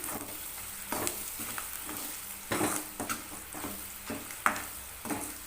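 Onions sauté with masala powder in a pan, a low steady sizzle under repeated scraping and knocking strokes from a spoon against the pan, close and fairly quiet.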